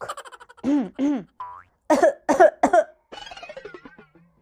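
A person clears their throat and coughs several times in short, loud bursts, with a brief springy boing-like effect in between.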